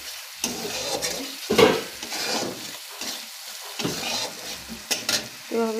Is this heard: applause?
no